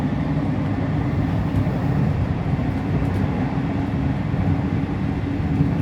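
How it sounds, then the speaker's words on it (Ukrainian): A modern electric commuter train heading to Rome, with a loud steady rumble and rolling hum running evenly throughout, without any talk. "Електрички сучасні. Сучасна електричка."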